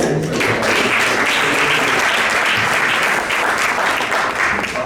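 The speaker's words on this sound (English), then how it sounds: "Can we get a round of applause for everybody in the room?" A room full of guests at an awards gala gives a loud, sustained round of applause, dense and continuous clapping without a break.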